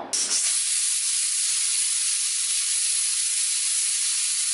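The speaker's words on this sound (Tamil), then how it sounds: "இப்போ குக்கரை மூடி போட்டு விசில் சேர்த்துட்டு 1 விசில் விட்டு அடுப்பு ஆஃப் பண்ணிக்கலாம்." A pressure cooker on the stove vents steam in a loud, continuous hiss that starts abruptly and holds steady and close for several seconds, with no talk.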